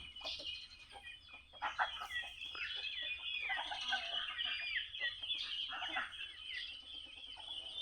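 Chickens cluck and squawk continuously nearby, a busy overlapping chatter of hen calls with no talking.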